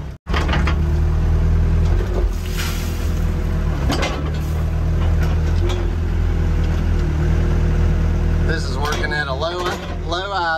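A Yanmar Vio80 excavator engine idling, a steady, loud low diesel rumble that runs throughout, with a person talking over it.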